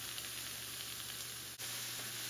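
Ingredients sauté in hot oil in a pan for a tawa egg curry, making a quiet, even hiss of sizzling that runs without a break, with a brief dip partway through.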